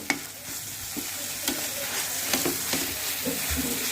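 Cooking oil heats in a pan over a gas flame turned up, ready for a paneer curry. It gives a steady, fairly quiet sizzle with a few light clinks of a ladle.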